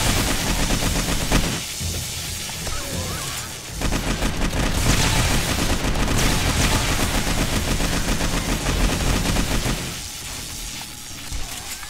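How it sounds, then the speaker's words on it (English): Dense, loud automatic gunfire from a recoil-heavy gun firing armor-piercing rounds in 7 Days to Die. Rapid bursts run almost unbroken, with two brief pauses between volleys. "God, there's so much recoil on this gun though."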